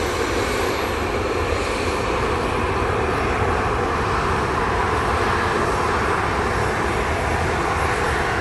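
An airplane roars loudly and continuously at Montego Bay airport in Jamaica, a broad sustained engine rumble and hiss filling the whole stretch with no voices.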